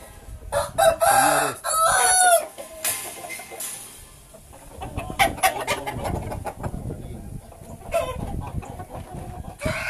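A large fighting-type rooster crows loudly up close in a couple of strained bursts, with clucking and farmyard noise continuing around it.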